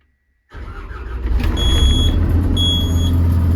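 A Lovol GM80 combine harvester starts up after near silence: the engine catches abruptly and settles into a loud, steady diesel rumble, with high electronic warning beeps sounding twice over it.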